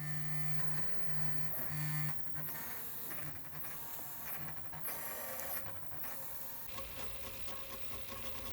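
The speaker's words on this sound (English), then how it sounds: "you put the SD card in the machine and tell it to print" A 3D printer runs a print job from G-code on an SD card, its stepper motors whirring and buzzing steadily, with shifting tones and short bursts as the print head moves.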